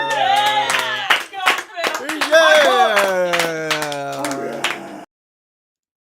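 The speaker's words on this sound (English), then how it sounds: "We need to give a cheer for Jan" During a live drawing stream, voices whoop and cheer over a burst of sharp hand claps. The lively, close cheering lasts about five seconds, then cuts to silence.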